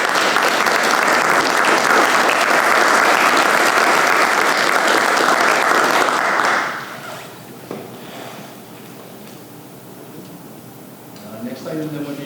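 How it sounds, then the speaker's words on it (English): A room full of people at a school Board of Education meeting applauds loudly and evenly for about six seconds, then the clapping stops abruptly and quiet speech follows. "So how about a round of applause?"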